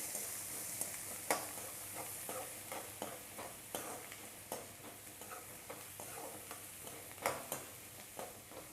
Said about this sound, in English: Give a good stir.